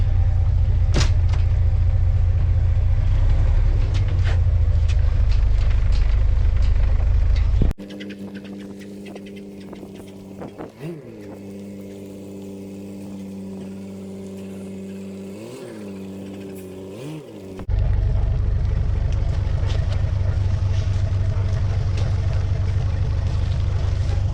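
A double decker bus, under 5 tonnes, drives along with a steady low engine drone and rumble that swell and ease with the speed, loud throughout, with a quieter interior stretch in the middle.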